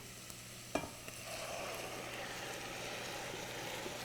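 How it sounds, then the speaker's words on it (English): Tomato puree poured into a hot pan for a Sunday meatball sauce, giving a sharp splash then a steady, close sizzle and frying hiss that holds throughout with no talking. "this is when we add our tomato puree or your pureed crushed tomatoes"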